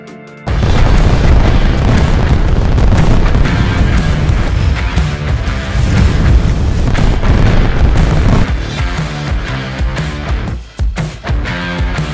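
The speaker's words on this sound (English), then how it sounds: "we did not realize there are so many fireworks" Fireworks explode at a Monster Energy Supercross event in a loud, dense barrage. Booming bursts and crackling pops overlap almost nonstop, with one brief dip before the volley resumes.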